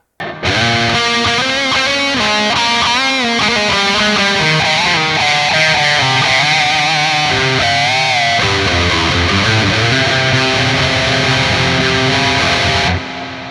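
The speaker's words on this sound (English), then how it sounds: "So let's do this cloud reverb." A sustained, heavily processed guitar chord wash through a cloud reverb effect on an Ampero unit rings out continuously, thick and shimmering with a long, diffuse reverb tail, loud and alone with no voices.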